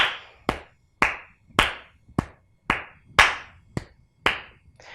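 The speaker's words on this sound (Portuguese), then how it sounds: "A palma mais forte." Loud, sharp hand claps ring out one at a time in a steady, unhurried rhythm, about nine in all, each clap followed by a short room echo and quiet between beats.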